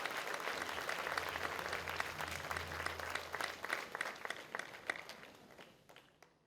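Applause from a ceremony crowd at the Pasadena ISD sports hall of fame, fairly faint and continuous over a low hum, growing more scattered and uneven before tapering off to a few claps.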